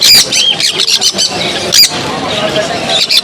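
Shrill, raspy squawks from a one-month-old baby sun conure at the Mirpur 1 bird market repeat in quick bursts, loud and close, mixed with chirps and someone talking over them.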